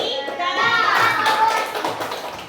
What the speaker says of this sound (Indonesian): Ayo berikan aplaus untuk kelompok 3